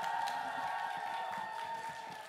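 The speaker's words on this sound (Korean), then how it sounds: "박수가 필요합니다 여러분들" An audience at a small live studio concert applauds steadily for the singer's encore, a dense, even patter of clapping that holds throughout with a faint steady tone beneath it.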